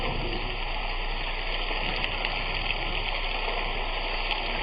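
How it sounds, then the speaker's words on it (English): Milk poured into flour-thickened gravy in a hot skillet makes a steady, even hiss and rush of liquid that runs unbroken and fairly loud, with no talking. "you're going to go ahead and pour in the milk"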